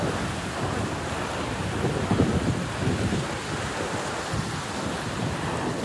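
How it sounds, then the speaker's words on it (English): Rough sea water churns and crashes under wind out at sea, a constant broad roar with a slightly louder surge near the middle and no voices. "Look at those waves"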